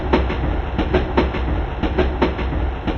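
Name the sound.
train wheels clacking on rail joints, steam hissing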